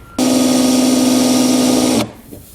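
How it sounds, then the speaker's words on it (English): A power drill drives a self-tapping screw into the floor of a 2019 Mitsubishi vehicle trunk, a loud steady whine lasting about two seconds that stops abruptly. "get my drill in here to put the screw in"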